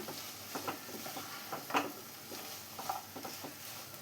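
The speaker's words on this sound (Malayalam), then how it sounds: "ഇനി ഇതെല്ലാം കൂടെ ഒന്നുകൂടെ ഒന്ന് മിക്സ് ചെയ്ത് കൊടുക്കാം" A spatula stirs a green beans and potato stir-fry in a pan, giving soft, irregular scraping and tapping strokes over a faint sizzle, quiet and close with no talking.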